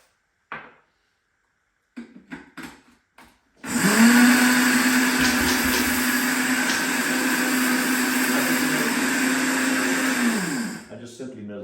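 Flaxseed being milled into flour in an electric grinder, which starts after a few brief clicks and handling knocks, then whirs loud and steady for about seven seconds before stopping.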